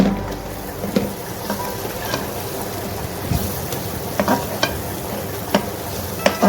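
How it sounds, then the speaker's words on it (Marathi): Chilli powder and Agri masala sautéed in a pan for a spicy Agri mutton curry, with a steady sizzle and sharp spoon scrapes and knocks recurring every second or so, close and fairly loud. "छान मसाले परतून घेऊया."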